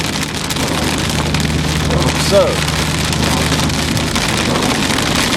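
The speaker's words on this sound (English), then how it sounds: "Wow, it's raining hard outside the car today." Heavy rain drums steadily on the outside of a car, a continuous dense patter with a low cabin hum beneath and a brief voice near the end.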